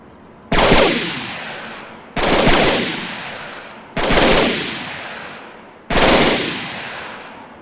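Four loud rifle volleys ring out at a military funeral, each a sharp crack with a long echoing decay, spaced about one and a half seconds apart, with no talk between them.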